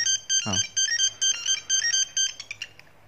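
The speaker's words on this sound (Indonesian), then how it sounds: "buat ringtone-nya ini masih berbasis monofonik" A simple single-tone monophonic ringtone from a Nokia 8310 phone beeps out a quick, bright electronic melody in short repeated notes, clear and alone.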